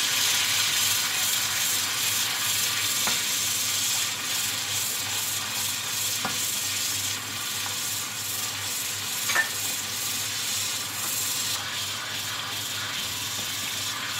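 Masala for a torai (ridge gourd) curry roasting in a hot pan, a steady loud sizzle with faint scraping and occasional soft clicks of stirring.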